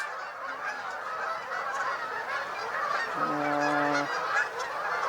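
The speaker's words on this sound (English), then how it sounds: "Now, most of these geese are Canadas, but here is a greater white-fronted." A flock of Canada geese mixed with greater white-fronted geese honks and clamors steadily at a distance, with one clear nearer honk standing out near the end.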